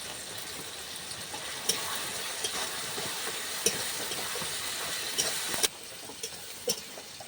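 Steady sizzling of spice paste with crushed ginger and chopped garlic frying in a pan, with occasional sharp scraping taps from stirring, close and continuous without any talking.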